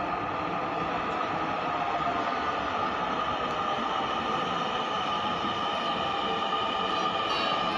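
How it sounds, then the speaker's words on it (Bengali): A metro rail train pulls into an elevated station with a steady, even rumble and hiss that holds at a constant level for the whole stretch, and no voices are heard. "মেট্রো রেল এখনই চলে আসবে এবং চলে আসলো মেট্রো রেল।"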